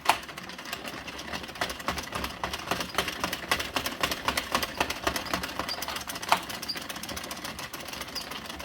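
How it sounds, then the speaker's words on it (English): Addi knitting machine cranked by hand with Red Heart yarn, giving a steady run of fast mechanical clicks and clatter at close range, with a sharper knock near the end and no talking. "Let's just hang crank this for a few rows and see how it goes."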